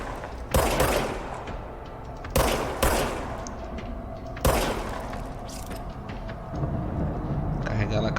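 Gunfire from a weapon in the video game Control: three sharp, loud shot bursts spaced a few seconds apart, each leaving a shattering, echoing tail, with a continuous game rumble underneath.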